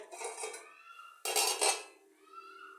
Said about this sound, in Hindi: ये रख के इनको एक साइड पे रखेंगे और ये बर्तन लिए,